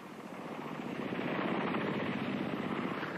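AH-56 Cheyenne compound helicopter with pusher propeller pulling up from behind a hill, a loud rotor drone that swells and holds steady, close and alone.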